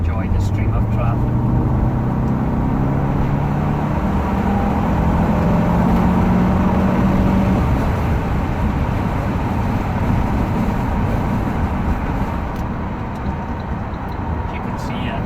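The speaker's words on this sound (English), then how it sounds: "It's on a bit of road like this where you're having to accelerate" A Saab 9-5 2.3T Aero engine pulls hard while merging into traffic, a rising engine drone under steady road and tyre noise, with someone talking over it.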